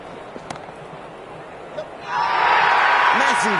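Crowd at a T10 cricket match, Jeddah Lions against Multan Sultans, swells into a loud, sustained roar of cheering that builds suddenly midway and carries on to the end, with a few whoops on top.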